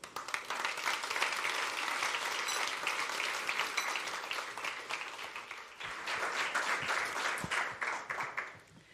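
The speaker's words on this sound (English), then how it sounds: "Please join me in welcoming on stage the Director of the Slovenian Tourist Board, Ms. Maja Pak, with the warm applause." Warm applause from a forum audience welcoming a speaker on stage, moderately distant clapping that dips briefly midway, then swells again before tapering off.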